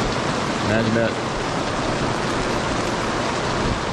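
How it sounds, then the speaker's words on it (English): Rain falls steadily at a campground at Huzzah Valley Resort in Steelville, Missouri, a continuous close wash of patter as someone speaks briefly over it. "Some people say it's just a little rain."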